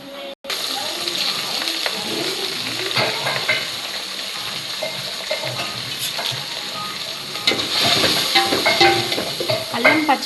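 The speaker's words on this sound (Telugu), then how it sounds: "అల్లం పచ్చివాసన పోయేదాకా బాగా ఫ్రై చేసుకోవాలి" Ginger paste frying with browned onions in a pan gives a constant loud sizzle and hiss, broken by stirring scrapes and wet spatters that grow busier toward the end.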